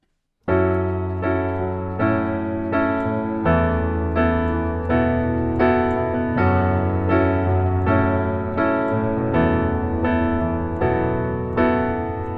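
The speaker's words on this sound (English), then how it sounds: "you're holding the sustain pedal the whole time" Piano chords played in a steady rhythm with notes ringing into each other, producing a blurred, continuously sustained wash of sound throughout.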